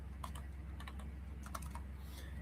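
Fingers tap on a computer keyboard in clustered bursts of crisp clicks over a low steady hum, close and fairly quiet, with no speech.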